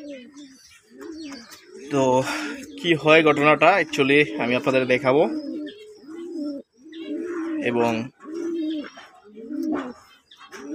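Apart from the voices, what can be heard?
pigeons cooing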